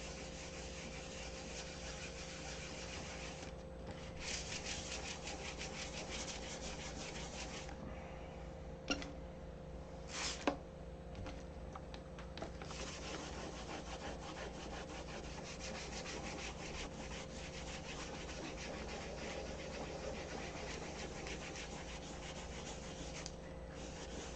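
Steady, continuous rubbing and sanding of a clear dope finish, a soft hiss-like scrape held at an even, fairly quiet level throughout, with a couple of brief sharper knocks near the middle.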